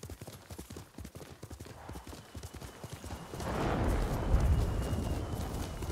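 Horse hooves clip-clopping rhythmically while riding in Ghost of Tsushima, the steady trot swelling into a louder rushing gallop with wind-like noise partway through.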